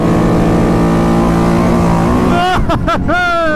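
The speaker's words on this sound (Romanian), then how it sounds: "Evacuarea asta se aude insane, fraților." A loud, close 2025 Polaris Sportsman XP 1000 S ATV engine revs with a throaty exhaust roar, rising in pitch with a few sharp throttle blips near the end.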